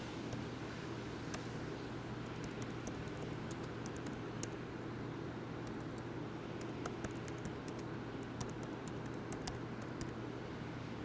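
Typing on a computer keyboard, a scattered run of light key clicks tapping in irregular bursts over a constant low background hum, close and fairly faint.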